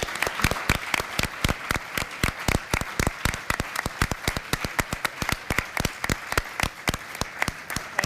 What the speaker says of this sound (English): Oh, that makes me want to applaud.